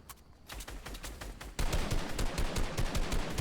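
Rapid automatic gunfire in a competitive battle royale match, sharp repeated shots growing louder and denser halfway through, with a crackling volley continuing to the end and no talk.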